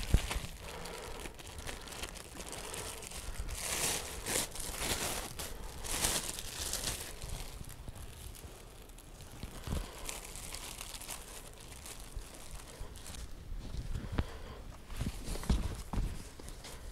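A plastic bag is crinkled and pressed over freshly permed hair at a barber's, giving a steady run of close, rustling crackles with a few louder crumples.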